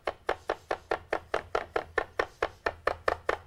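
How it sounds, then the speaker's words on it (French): A kitchen knife chops mushrooms on a board in a steady rhythm of about a dozen crisp, close taps, each stroke evenly spaced, with no talking. "le premier travail, eh ben, ça va être de hacher les champignons"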